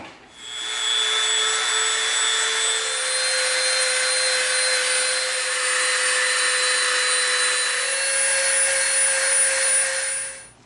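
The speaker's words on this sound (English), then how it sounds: "we're gonna bring our Dremel in, and we are going to round off all the edges of this piece" A Dremel rotary tool rounding off the edges of an EVA foam shield piece, a steady high-pitched motor whine that holds for about ten seconds, shifting slightly in pitch as it bites into the foam, with no talk.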